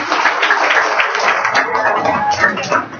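An audience claps together at a seminar on earning a first million, a dense, loud, steady applause close by that runs the whole time, with some voices mixed in.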